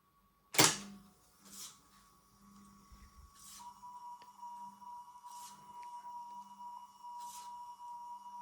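A test tone plays back on an Olimp reel-to-reel tape recorder in the forward direction. A sharp click comes first, then a faint, steady pure tone holds through the rest, with soft periodic chirps and low hum.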